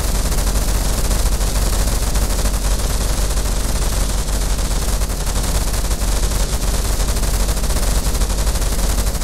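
CWIS gun in the From the Depths video game firing without pause, a dense, loud, unbroken roar of rapid shots that fills the whole stretch with no gaps.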